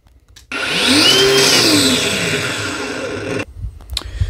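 A Ryobi angle grinder runs at full power with a loud, steady high-pitched whir that starts abruptly, holds for about three seconds with a brief pitch rise, then cuts off.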